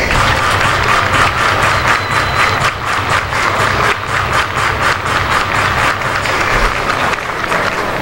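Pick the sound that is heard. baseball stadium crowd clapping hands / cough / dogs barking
baseball stadium crowd clapping hands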